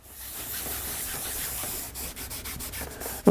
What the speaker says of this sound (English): we just want to rub that until it's mostly off